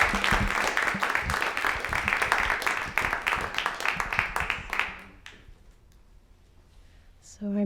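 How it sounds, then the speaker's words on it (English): Audience applause at a club talk presentation, a dense burst of clapping for about five seconds that thins out to scattered claps before a voice starts. "let's give a warm round of applause for Amy Dragon and Dave Mendoza"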